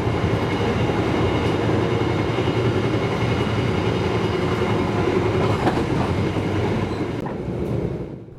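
The Sembrani passenger train rumbles past Cikarang station in Indonesia nearby with a steady, loud roar of wheels on rails, rhythmic clatter throughout, fading slightly at the end.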